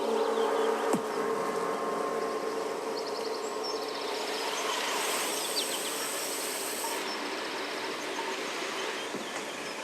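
A dense, steady buzzing of many honey bees at a hive fills the whole clip, close and continuous, with occasional higher whines as individual bees pass nearby.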